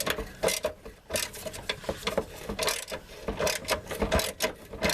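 A ratchet on a long extension and 13mm socket works a rusty horn bolt loose on a Dodge Caravan, giving quick irregular clicking and metallic ticking, close and fairly quiet with no talk.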